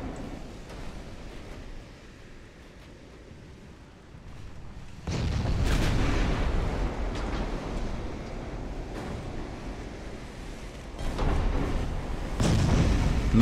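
Battleship big guns fire in Ultimate Admiral: Dreadnoughts, with heavy rumbling booms that swell into a sustained roar midway, then two more loud bursts near the end over a constant low naval-battle din.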